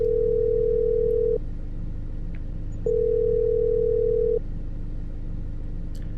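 A steady ringback tone on a phone line in a video game: two long tonal beeps separated by a pause, heard over a low background rumble.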